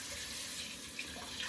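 Cold tap water runs steadily into a bathroom sink while a face is rinsed, a soft continuous hiss heard alone and fairly quiet.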